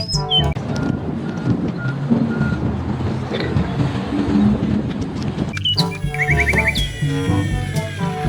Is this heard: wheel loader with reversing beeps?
yes